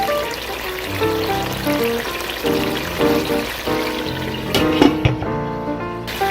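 Food sizzles and crackles as it fries in a pot while cooking Jollof rice, a steady close-up hiss under clattering, with no voices.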